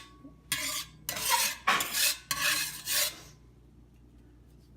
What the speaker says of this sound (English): just make sure this olive oil is all over the pan